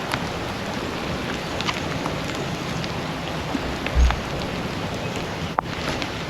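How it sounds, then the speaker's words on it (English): Steady rain falls outdoors on a golf course during a round, a continuous broadband hiss with occasional louder drop impacts and a brief thump, no talking. "as you can tell, it's raining out"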